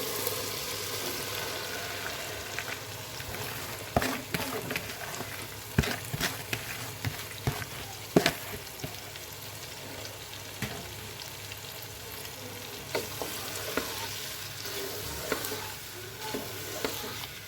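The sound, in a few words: potatoes and tomato frying in spice paste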